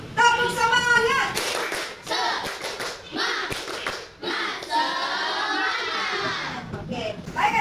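A class of children in a school classroom performs a rhythmic spirit clap (tepuk semangat) together, bursts of hand claps and taps in patterned groups mixed with children's chanting voices, fairly loud and close.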